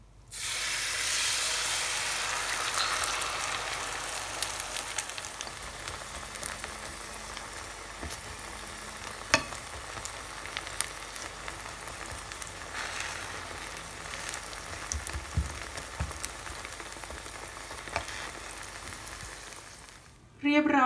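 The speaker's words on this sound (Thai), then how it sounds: "เหมือนจะเป็นกระเทียมดอกกระเทียมป่าชุบไข่ทอดนะคะ" Wild garlic flowers dipped in egg fry in cold-pressed coconut oil, a steady close sizzle and hiss with scattered pops and crackles running nearly unbroken, ending in a brief clunk.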